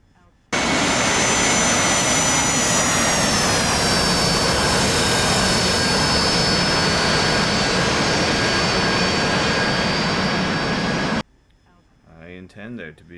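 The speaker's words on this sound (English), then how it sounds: "See if I can bring this in for a VTOL landing." Loud, steady jet engine roar of an AV-8B Harrier during a VTOL landing in the DCS flight simulator, a broadband rush with whining tones that dip then hold, cutting off abruptly before a voice speaks at the end.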